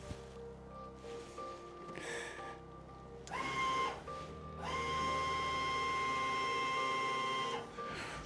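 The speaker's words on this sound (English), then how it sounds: "If I bridge this over now, it should run the pump." Electric fuel pump for a fuel bottle filling setup, whirring on in bursts, then running steadily with a tonal whine, close and fairly quiet.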